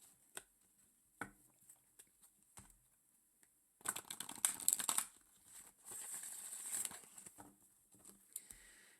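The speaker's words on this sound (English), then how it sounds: "I'm gonna go ahead and shuffle." Tarot cards are shuffled by hand in soft, close bursts of riffling and pattering, quiet at first and then a denser flurry in the middle, with no talking.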